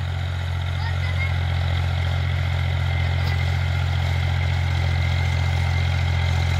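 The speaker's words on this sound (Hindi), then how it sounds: "देखो ट्रैक्टर खुल के चल रहा है," A John Deere 5050 D tractor engine runs steadily in a harvested sugarcane field being readied for wheat, a close, even diesel drone with a strong low rumble that holds throughout.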